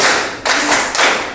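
A classroom group doing the tepuk fokus clapping chant in unison, three loud, tight bursts of many hands clapping together in an even rhythm, close and bright, with no voices.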